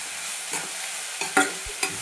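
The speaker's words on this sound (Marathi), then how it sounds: "थोडंसं परतावून घ्यायचं आहे." Potatoes cooked as usal with coriander leaves stirred and sautéed in a pan, giving soft scraping stirs and light sizzling in short bursts, close and moderately quiet, with no talking.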